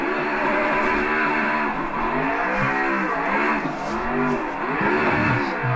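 Engine of an RTR Mustang drifting in a sim racing game, a loud, sustained roar with pitch rising and falling through throttle blips and slides, tire squeal mixed in, no voices.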